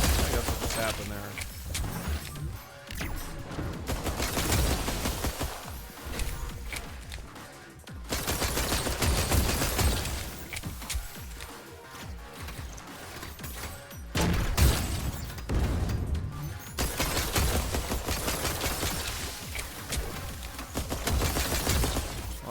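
Pistol fire rings out in the sci-fi shooter game Galactic Vault: rapid bursts of shots come in repeated clusters over layered game effects and background sound, loud throughout.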